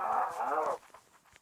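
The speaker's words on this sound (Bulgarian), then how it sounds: "Чуват са 2 крави." A cow in the Minecraft video game lets out one short, loud moo that cuts off abruptly, followed by faint soft thuds.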